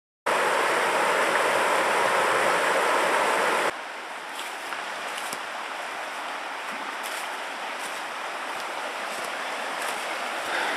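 River water rushing steadily beside a hiking trail, a loud broadband wash that drops to a softer, farther flow partway through, with faint occasional clicks over the continuous stream.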